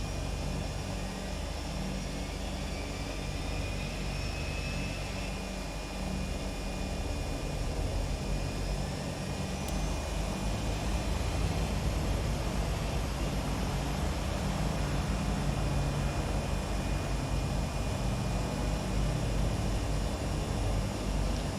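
Turbine engine on the left side of a Beechcraft Duke BE60 turboprop conversion spooling up at startup, a steady loud broadband roar with rising high whine tones throughout, no talk.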